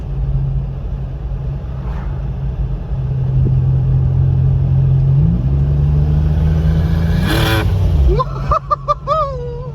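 A turbocharged Mitsubishi Pajero under way: a loud, close engine rumble that climbs through a gear, then a sharp rising whoosh near the end followed by a few short pulses as the revs drop.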